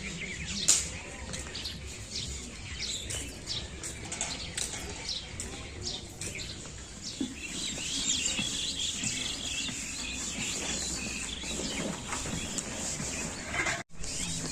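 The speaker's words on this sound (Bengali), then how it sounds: "কতগুলো ময়না পাখি আছে।" Myna birds calling outdoors, scattered chirps and squawks over a steady insect-like background hiss, moderately faint and at a distance, with no clear voices.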